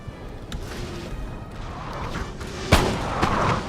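Cannon artillery fire in the Napoleon Total War video game during a multiplayer battle, with distant booms rolling in and one sharper, louder blast near the end over a steady battlefield din.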